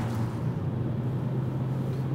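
A steady, droning engine hum from a Renault Megane plug-in hybrid Sport Tourer under full acceleration, with a strong low tone, held at a constant loud level throughout, heard from inside the vehicle.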